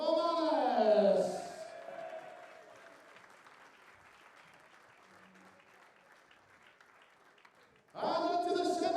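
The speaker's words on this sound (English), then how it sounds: "let's have a massive round of applause for Ralph Barmanis." At the WDF 2024 World Darts Championship, a crowd's applause rolls on under and after an announcer's voice, a soft, steady wash of many hands clapping in a large hall before the announcer returns.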